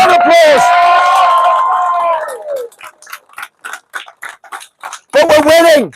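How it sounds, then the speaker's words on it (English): At a street rally outside a migrant hotel in Bangor, a loud bellowing whoop from the crowd gives way to scattered, uneven claps, then another long shout rises at the end. "Give them a round of applause."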